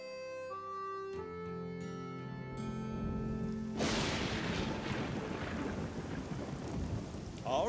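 In an animated children's cartoon, a brief musical tone gives way to a rumbling thunderclap and then a steady wash of falling rain that carries on to the end, with no talk.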